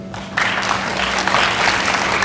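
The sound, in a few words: audience applause at awards ceremony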